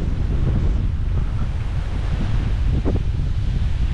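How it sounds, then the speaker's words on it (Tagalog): Strong wind buffets the microphone outdoors in a steady, loud low roar with continuous gusting rumble and no pauses, like surf-like rushing air throughout. "Ang lakas ng hangin."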